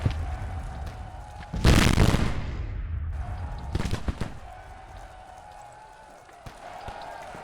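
Civil War infantry volleys in the strategy game Grand Tactician: a loud burst of massed musket fire rolls out, fades, then a second sharper crackle of shots follows, with scattered distant pops and low ambient battlefield rumble throughout.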